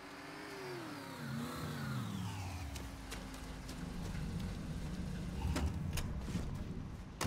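A car engine in the video game Mafia 3 revs and climbs in pitch, then settles into a steady idle under the patter of rain, with a louder burst toward the end.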